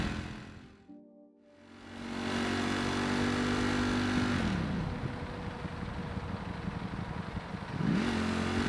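A Ducati Panigale V4 S motorcycle from 2018 accelerates hard in race mode, its engine rising in a loud, close roar through the gears with a clear pitch drop at each shift, then building again.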